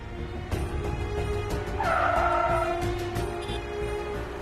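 A car in a Tamil TV serial scene pulls over and stops, its engine rumbling under a brief tire squeal midway, fairly close and without speech.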